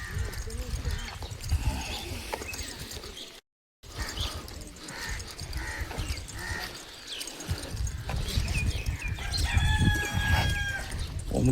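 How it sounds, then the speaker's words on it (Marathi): A rooster crows at dawn in a waking village along the Narmada, its call rising near the end above a restless outdoor background with low voices and movement. "कोंबड्याची पण बांग आलेली आहे"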